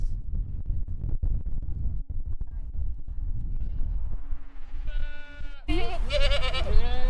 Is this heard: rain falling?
no